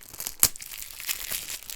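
Plastic wrap is peeled off a CD album in a close, crinkly rustle with one sharp crackling tear near the start and softer crumpling after it.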